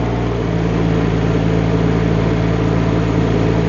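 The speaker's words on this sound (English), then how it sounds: "Let's put it in a high gear and see how it's going to drive." Loud, steady diesel drone from a Rippa R18 mini excavator traveling in high gear, a continuous low engine hum heard up close without pauses.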